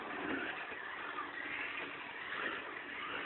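Can-Am race car engine heard from a distance, a steady muffled roar with slight revving and a faint chattering quality, continuous and fairly quiet.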